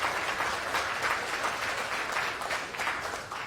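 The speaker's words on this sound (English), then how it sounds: "Give him a round of applause" An audience applauds at a National Urban League Juneteenth event, a steady wash of many hands clapping at even volume throughout, with no voices over it.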